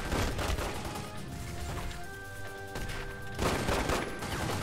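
Gunfire in The Godfather video game, with a dense burst of shots and crashing impacts in a bar shootout, loud and continuous across the clip.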